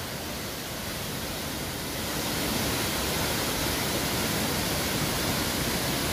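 Dense, steady roar of the Curuá waterfall in Altamira, Pará, heard from its base: broadband rushing water filling the whole clip, growing slightly louder partway through and continuing without pause.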